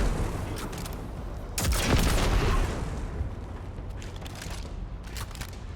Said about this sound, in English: And then fire 2 rockets at it.